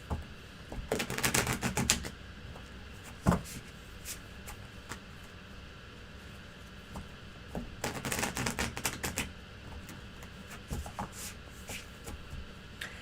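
Two bursts of rapid riffling as a deck of slippery tarot cards is shuffled, crisp fluttering clicks separated by quieter handling noise, close by.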